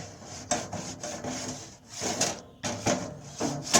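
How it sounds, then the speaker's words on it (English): A wooden paddle scrapes across a grill to clean it, giving rough, close rasping strokes in uneven bursts with short gaps between, fairly quiet and without talk. "It's a good wooden paddle, gets it good and clean."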